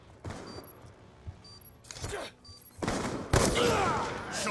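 Bursts of video game gunfire from a shooter match crack out in scattered volleys, growing louder and denser toward the end, with players' voices talking over parts of it.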